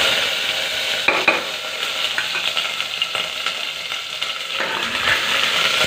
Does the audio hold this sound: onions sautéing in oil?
yes